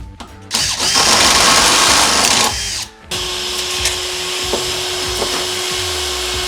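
A power drill widening a rectangular hole in the C-pillar of a RAM ProMaster van whirs loudly and close for about two seconds, stops briefly, then a quieter steady hum with faint ticks continues.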